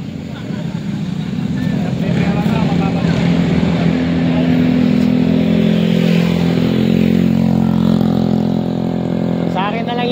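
Motorcycle engine running steadily and fairly loud, with a rising harmonic drone near the end, under excited voices of onlookers waiting at a spot where riders keep crashing.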